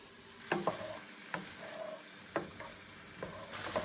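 A saltfish and ackee base fries in a pan under a soft continuous sizzle, while a spoon stirs and scrapes in sparse, irregular strokes, each one a crisp close tap or scrape.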